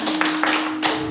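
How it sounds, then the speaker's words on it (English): A church congregation claps their hands during worship: a few sharp, separate claps land at an uneven rhythm over a steady low hum. "Somebody clap unto Jesus."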